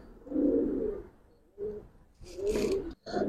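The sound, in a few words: Giribaz pigeons cooing in a loft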